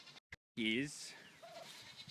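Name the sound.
goats bleating in an apple orchard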